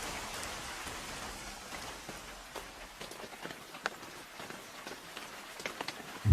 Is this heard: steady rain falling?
yes